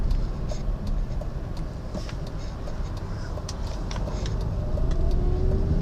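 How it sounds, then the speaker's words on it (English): A Lamborghini Gallardo with a gated 6-speed gives a steady, mild engine drone from inside the cabin, with faint ticking and clicks over the low rumble and a slowly rising tone near the end. "as you can hear right here, the car has just a little bit of tone to it, but nothing really aggressive"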